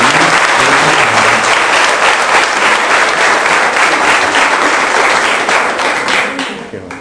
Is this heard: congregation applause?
yes